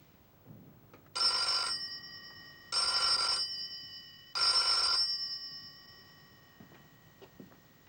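Telephone bell ringing three times in a steady rhythm, each ring about a second long with short gaps, fairly close and loud in a quiet room, followed by silence.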